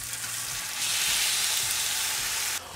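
A steak flipped in a hot pan: the sizzle surges louder as the meat lands, holds as a bright, steady hiss, then drops suddenly near the end.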